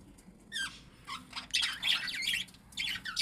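Budgies in a newly built aviary chirping and squawking in quick overlapping bursts, several birds close by, with short pauses between flurries and no talking.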